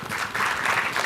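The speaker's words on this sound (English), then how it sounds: "And now, a round of applause for the grand prize winner of this year's 100K" A large audience bursts into steady, dense applause for the grand prize winner of the MIT $100K Pitch Finals competition, a continuous wash of clapping with no speech.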